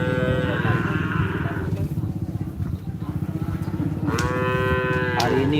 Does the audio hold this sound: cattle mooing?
yes